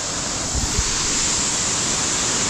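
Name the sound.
large waterfall in Tamini Ghat during monsoon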